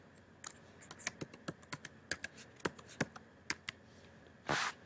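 Fingers tap steadily across a computer keyboard in a quiet room, a run of distinct clicking keystrokes at an uneven pace, closing with a brief louder rustle.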